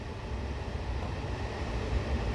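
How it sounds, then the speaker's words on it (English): A London Underground Waterloo & City Line train in Train Simulator Classic rumbles past as a continuous low, broadband roar that swells slightly toward the end. "Goes the other train."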